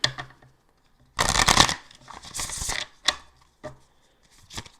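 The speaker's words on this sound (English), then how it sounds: "Let's get 4 shuffles here for Cancer." Tarot cards are shuffled in a long riffling burst, followed by a few shorter flicks and taps, close up and otherwise quiet.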